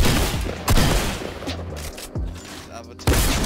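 Tactical shotgun fire in the Fortnite video game, with four loud, sharp blasts spaced about a second apart and game ambience ringing between them.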